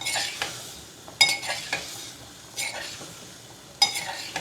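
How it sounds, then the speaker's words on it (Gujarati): Potatoes and tomatoes are stirred in a pan on low gas with a spoon, giving several distinct scraping and clinking strokes with a light sizzle between them and no talking. "મસ્ત રીતે મિક્સ કરી દઈએ અને એકદમ ધીમા ગેસ પર રાખીએ"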